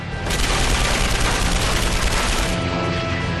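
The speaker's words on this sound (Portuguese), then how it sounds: "O Thunderbolt estremece sob o impacto de outra rajada." A sustained machine gun burst striking a P-47 Thunderbolt fighter plane in a wartime dogfight, loud dense rapid gunfire lasting about two seconds before cutting off into a lower rumble.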